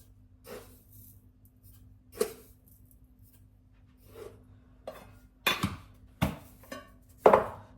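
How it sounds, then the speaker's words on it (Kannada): Tea powder being added to milk in a pot on a home kitchen stove: faint scattered clinks and scrapes of a spoon against metal, a few soft taps early, then sharper knocks toward the end over a low steady hum. "ಸೊ ಹಾಲು ಹಾಕಿದ್ದಾಯಿತು ಸ್ವಲ್ಪ ಟೀ ಪೌಡ್ರ್ ಹಾಕೋಣ"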